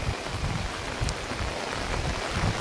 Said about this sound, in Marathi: गेली 12 घंटे हा सारखा पाऊस चालू आहे